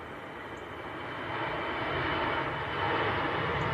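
A jet airliner at Manchester Airport roars steadily from a moderate distance, its broad engine rumble slowly swelling louder, with no voices over it.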